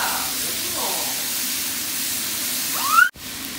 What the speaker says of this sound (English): And then stir fry also your mushrooms.